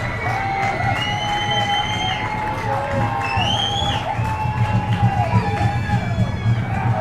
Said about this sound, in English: The crowd of Arrowhead showing signs of life.